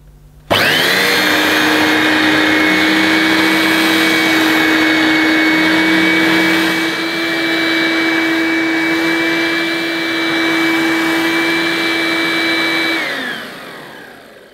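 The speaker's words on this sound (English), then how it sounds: "Let's try this Hoover Heavy Duty Brushvac out on my" Hoover Heavy Duty Brushvac handheld vacuum cleaner running on plush carpet: loud, close motor whine that starts abruptly, holds steady with a high tonal drone for about twelve seconds, then winds down.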